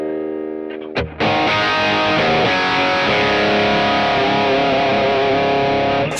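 Boosted, heavily distorted electric guitar tone through a Mooer preamp, a brief note then a thick sustained chord ringing out loud and saturated.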